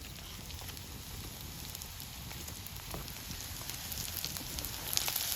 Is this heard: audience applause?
no